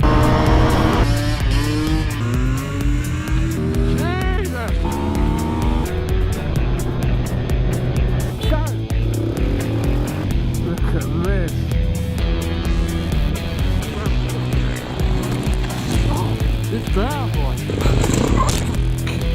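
A 2019 Kawasaki Ninja H2 SX SE motorcycle is ridden at full power, its engine revving up and down in repeated rising sweeps through gear changes, loud and close over steady wind noise, with a rider talking over it.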